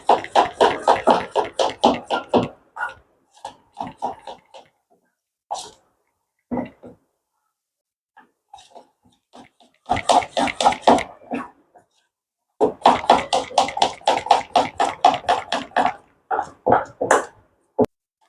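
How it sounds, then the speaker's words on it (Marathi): Vada pav batter whisked steadily in a bowl to work out lumps, a rapid rhythmic clatter of strokes coming in bursts separated by short pauses, close and fairly loud. "तर असं फेटत राहून ह्याचे सगळे लम्प्स काढायचे"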